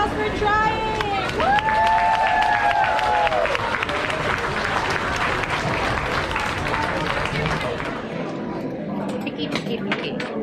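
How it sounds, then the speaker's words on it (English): Audience applause and cheering for a diner who tried a huge steak challenge at a steakhouse in Amarillo, a dense wash of clapping and crowd noise with chatter and some shouted voices mixed in, steady throughout. "All right, everybody give Cruz a round of applause for trying."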